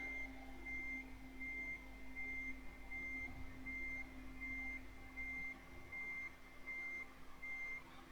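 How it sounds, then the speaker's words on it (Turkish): A truck in Euro Truck Simulator 2 backs up with a steady reversing beeper, evenly spaced tones repeating throughout over a constant low engine hum. The sound is clear but moderate in level, and no one talks. "Tak geri vitesi babacığım"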